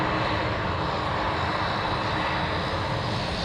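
A 747 airliner taxiing at Anchorage airport, its jet engines making a steady, broad, continuous roar at moderate distance.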